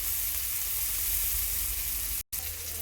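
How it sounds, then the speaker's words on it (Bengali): Tomatoes and turmeric fry in a pan, giving a steady, close, dense sizzle that briefly cuts out near the end before resuming. "এর মধ্যে টমেটো ফ্রাই করে নেব। এরই মধ্যে হলুদটা দিয়ে একটু ভেজে নেব"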